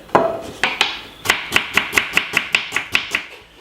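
Half a red onion being chopped with a knife on a board produces a series of crisp, evenly spaced chops, about a dozen in quick rhythm, close and without talk.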